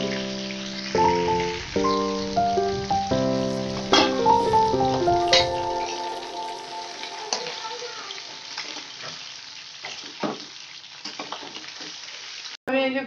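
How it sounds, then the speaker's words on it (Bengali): Whole cumin seeds and a bay leaf sizzle in hot oil for a muri ghonto, a steady crackling fry beneath a music bed that fades out, with a brief clatter near the end. "আমি এই যে গোটা জিরে একটু ফোড়নে দিলাম, আর দেবো একটা তেজপাতা ফোড়নে"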